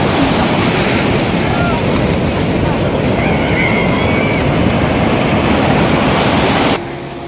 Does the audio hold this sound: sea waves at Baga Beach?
yes